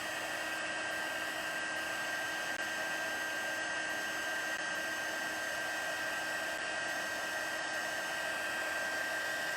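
A heat embossing tool blows hot air steadily over a stamped card, a constant close whirring hiss that holds level throughout with no talk.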